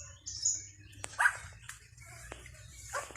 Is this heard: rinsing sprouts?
no